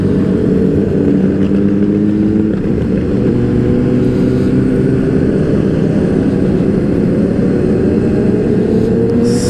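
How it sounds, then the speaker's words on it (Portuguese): A group of about eleven motorcycles riding together toward a serra, a loud continuous engine drone with steady layered tones and no talk. "dez, onze motos, cara."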